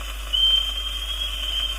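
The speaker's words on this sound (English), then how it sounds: "There goes the bosun's whistle." A steady high-pitched bosun's whistle piping someone aboard a ship holds one tone throughout, piercing and unbroken over a low background hum.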